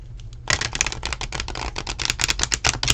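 Great Goddess Oracle cards being shuffled by hand: a quiet lead-in, then a dense run of crisp, rapid riffling and flicking card noise, close and steady for several seconds with no talk.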